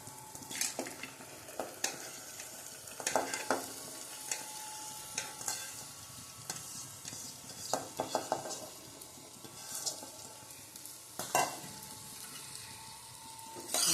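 Cowpea (choli) vegetable stirred through hot masala with garlic chutney in a pan, with a steady sizzle, scraping spoon strokes and occasional metallic clinks against the pan, close and alone without talk.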